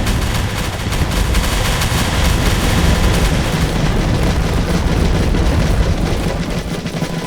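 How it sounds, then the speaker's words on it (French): Heavy battlefield gunfire and booming cannon shots in a France versus Sweden Conquest video game battle, a dense continuous roar of blasts and volleys filling the whole stretch, loud and close. "Les canons."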